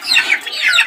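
A hen clucking among her chicks, with thin high chick peeps layered over soft low clucks, heard fairly close and continuing steadily without pause.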